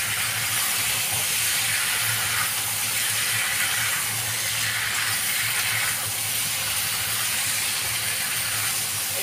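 A whole batch of vegetable curry tipped into a hot pan with ginger, green chilli, cumin paste and asafoetida, giving a steady, loud, broadband sizzle and hiss that holds evenly throughout with no talking.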